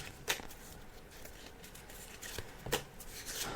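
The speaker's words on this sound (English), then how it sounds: "So they told me to stop, so I'm just laying out the cards now." Tarot cards being laid out one by one after shuffling, soft quiet slaps and slides of card on a surface, a few sharper snaps spaced irregularly, close and faint.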